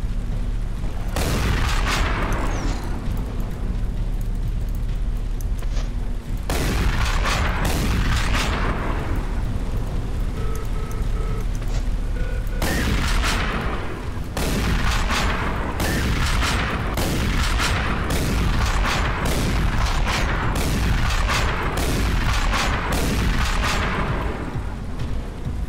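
Booming shotgun blasts in the retro shooter Hellscreen, heavy repeated shots at an irregular pace over a constant loud backdrop of game music and effects, with no talking.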